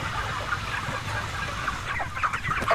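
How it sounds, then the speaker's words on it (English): Chickens raised for food in a crowded factory farm shed cluck and murmur continuously at a distance, a dense low chorus with a few sharper calls standing out near the end. "In this shed, tens of thousands of chickens are raised for food every 2 months."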